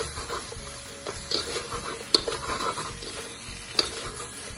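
Chicken lollipops are stirred in a pan to coat them in a sauce with green pepper, giving a soft sizzle under scraping and several sharp metallic clinks of a utensil against the pan. No one speaks.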